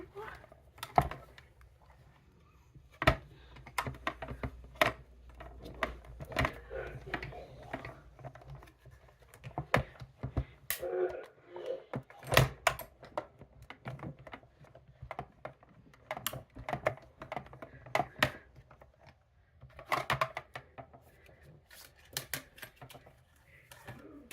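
Stampin' Cut and Emboss machine feeding a paper card through for a Christmas card, giving a steady run of crisp clicking and crunching, close and fairly quiet.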